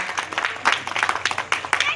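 Audience applause at a poetry gathering and mushaira held in Kanth, with bursts of clapping rising and falling in loud waves over a steady crowd rhythm.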